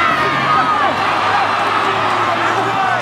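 A large crowd fills a stadium with a continuous roar and scattered shouts during a Samoa versus Tonga rugby league pre-World Cup match at night, while a commentator talks over it.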